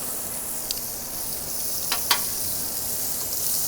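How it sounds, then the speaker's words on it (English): Continuous bright sizzle of scallops searing in a hot pan, with a few sharp crackles and pops standing out; no one speaks. "Don't you love hearing that sizzle? The sizzle just makes it."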